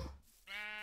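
A single sheep bleat in Minecraft, a short, clear, wavering cry that rises in after a brief knock-like sound and holds to the end, with no talking over it.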